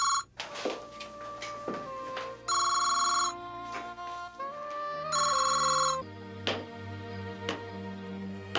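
A phone ringtone plays in loud repeated bursts with chiming notes between them, heard up close with no talking.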